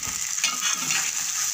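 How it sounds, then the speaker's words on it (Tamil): Rice upma being mixed in a pan, a close and steady sizzling hiss with faint soft stirring movement underneath and no talking. "இது நல்லா மிக்ஸ் பண்ணிக்கோங்க."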